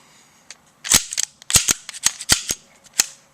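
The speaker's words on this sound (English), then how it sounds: "just take your magazine and see if you eject rounds" Rounds being pushed out of a Colt 1911 Government Model .45 ACP magazine, a quick series of sharp metallic clicks and clacks with short gaps, close up and alone.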